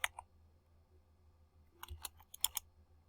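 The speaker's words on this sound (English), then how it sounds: "On the console, I type in the numbers." Fingers type numbers on a computer keyboard at a console, a few isolated key clicks at the start, then a quick burst of several sharp keystrokes, close and fairly quiet.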